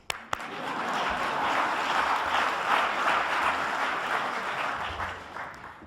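A conference audience breaks into applause after a sharp opening clap, a dense, steady wash of many hands clapping that swells quickly, holds for several seconds and then tapers off.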